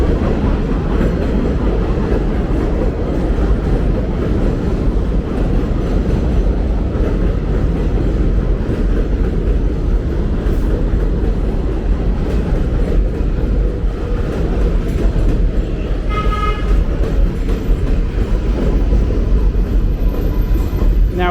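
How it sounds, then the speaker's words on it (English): An elevated 7 subway train passes overhead along Roosevelt Avenue in Jackson Heights, Queens, with a loud, continuous rumble and clatter throughout and a brief metallic squeal near the end. "Now we have the 7 train above us."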